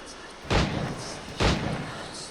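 Two booming shots of gunfire in Assassin's Creed Rogue, spaced about a second apart, each a loud heavy blast with a short rumbling tail over quiet ambience.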